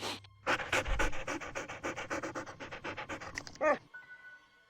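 Puppies in a Nancy Drew video game pant rapidly and loudly in a close, steady stream of quick breaths for several seconds. The panting ends abruptly, with no voices.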